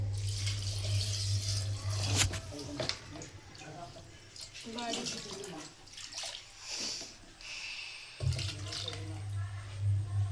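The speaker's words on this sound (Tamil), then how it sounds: "தண்ணி கொஞ்சம் ஊற்றிக்கலாம்." Water runs and splashes into a cooking pot, stopping midway and starting again near the end, with a person's voice and kitchen clatter in between.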